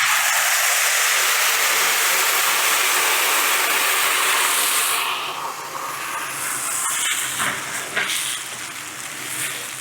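Ground coconut paste hits a hot pan of golden roasted cashews with a loud, steady hiss that drops suddenly midway, easing into softer bubbling sizzle with a few sharp spits near the end.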